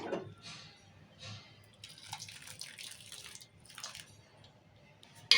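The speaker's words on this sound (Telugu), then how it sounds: "మసాలా పెట్టిన నీళ్ళు పోసుకోవాలి" Masala water pours into a pan of moong dal in a home kitchen, a light trickling and splashing that comes in uneven spurts, close but fairly quiet.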